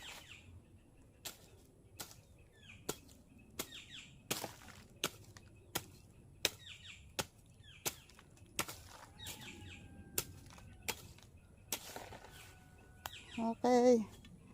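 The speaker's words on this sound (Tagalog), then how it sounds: "Ang maririnig mo mga huni ng ibon." Quiet outdoor scene where short, sharp bird chirps repeat at a steady pace, faint and somewhat distant. A brief voice comes in near the end.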